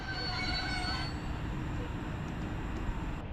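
TLK Katamaran train hauled by an EU160 locomotive runs through Warszawa Wschodnia station, a steady loud rumble of wheels on rail with high squealing tones early on and faint clicks, heard alone without voices.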